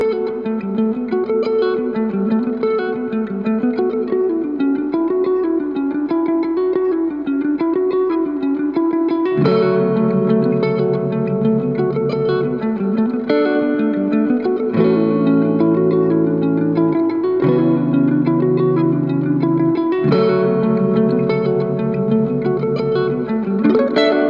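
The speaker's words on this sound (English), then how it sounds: "you can have just the Joyo Atmosphere that functions as a reverb pedal" Heavily processed guitar through a Joyo Atmosphere reverb pedal, washy reverb and echo, chords ringing out and trailing off into long, shimmering tails; steady and fairly loud, no talking.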